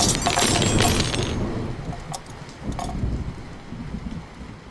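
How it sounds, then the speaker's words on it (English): A loud crash of thunder mixed with several metal spoons clattering to the ground, a dense burst at the start that fades, then a few sharp metallic clinks and a rumbling tail. "Hard thunder sounds and several spoons crash to the ground."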